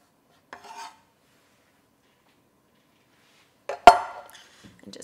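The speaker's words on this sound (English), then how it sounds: "And just give it a little stir." A spoon stirs chicken tikka masala inside a Ninja Foodi pot: one soft scraping stir, a pause, then a sharp clink against the metal pot followed by brief scraping, close and fairly quiet.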